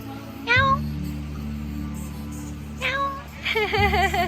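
A cat meows clearly several times nearby in Bohol, Philippines, with a pause between calls, over a steady low hum.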